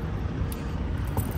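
Keys jangling inside a delivery truck cab, a brief metallic rattle over a steady engine rumble, with no talk.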